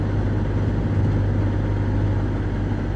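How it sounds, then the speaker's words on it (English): A Porsche 987 Boxster's engine hums low and steady while cruising in third gear through a village, with a constant drone and a soft, even road rumble. No one talks. "3rd gear, just cruising through the village, not making too much noise"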